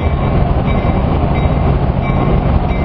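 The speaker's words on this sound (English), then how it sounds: "Next up we have Union Pacific 949, an E9 from Cheyenne, Wyoming." Union Pacific 949, an E9 streamliner diesel locomotive on excursion service, rumbles past at a railway museum in Spencer, North Carolina, giving a loud, steady, close roar of engine and rolling wheels with no voices.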